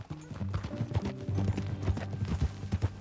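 Horse hooves clip-clop steadily in Red Dead Redemption 2, with a rhythmic trot heard over game music and ambience.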